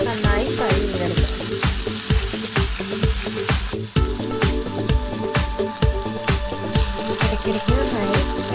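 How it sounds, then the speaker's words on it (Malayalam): Chicken pieces for shawarma frying in olive oil in a pan, a continuous near sizzle that is partly buried under loud rhythmic background music with regular beats. "നന്നായി ഫ്രൈ ചെയ്തെടുക്കാം."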